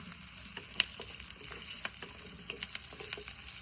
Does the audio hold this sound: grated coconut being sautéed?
yes